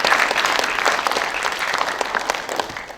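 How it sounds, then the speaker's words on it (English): Audience at a first-day school assembly at Cheongna Dalton School breaking into dense, continuous applause, a crowd of many hands clapping loudly and steadily throughout with no talking over it. "Give yourselves a round of applause."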